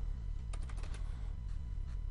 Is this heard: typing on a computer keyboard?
yes